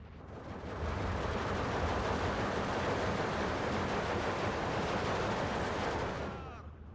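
Mortar barrage in the WWII strategy game Steel Division 2, a dense continuous rumble of overlapping blasts and explosions sustained for several seconds at steady loudness before tapering off.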